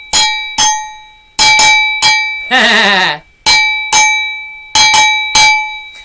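Cowbell struck repeatedly in an uneven rhythm, each bright metallic clang ringing out and decaying, with a sliding warbled tone in the middle, loud and close with no talk.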